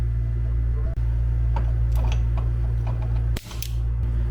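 A camping stove being fired up to brew coffee, with sharp ignition clicks standing out over a steady, loud hiss and hum, near and without speech.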